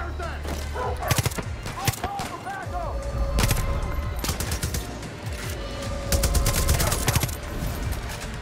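SMG fire in the video game Far Cry New Dawn, with repeated rapid bursts of loud gunshots over steady game background noise and music tones.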